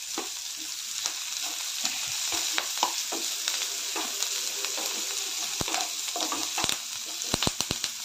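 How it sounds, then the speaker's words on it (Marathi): Onion and garlic fry in a pan with a dense, continuous sizzle and crackle, punctuated by sharp spatula scrapes and taps toward the end, close and loud with no talking. "चांगलं भाजून घेऊया कांदा। त्यानंतर लसूण घालूया।"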